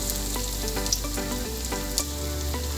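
Chicken fillet fries in very hot oil, producing a continuous crackling sizzle with scattered small pops, steady and close, with no talking.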